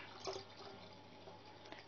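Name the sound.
milk being poured into a jug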